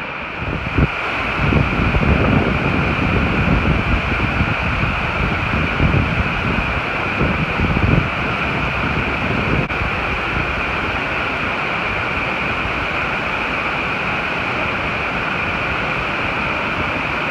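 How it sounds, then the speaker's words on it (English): Laurel Falls, a waterfall on the Appalachian Trail, gives a steady, loud broadband rushing roar of falling water that stays constant throughout, with no voices. "this is Laurel Falls. When I get down there, you probably won't be able to hear me talk."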